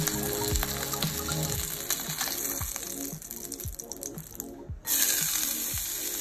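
Octopus sears in olive oil in a pan, giving a steady, close sizzle and crackle that stays loud throughout, with a brief dip near the end and rhythmic low thumps underneath.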